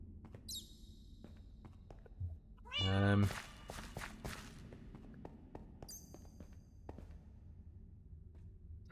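Cats meowing in the Minecraft video game, a few short high meows spaced apart with a burst of thumping and clatter in the middle, over a quiet game background.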